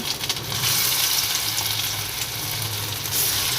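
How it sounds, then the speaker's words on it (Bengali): Gandal leaf fritters frying in hot oil, the batter turning almost black, give a steady, close, loud sizzle and crackle that runs unbroken throughout with no voices. "গাঁদাল পাতাগুলো দিয়ে দিয়েছিলাম বড়ার আকারে ভেজে ভেজে তুলে নিচ্ছি"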